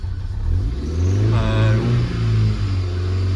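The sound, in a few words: Toyota MK1 MR2 1.6 engine running on brake cleaner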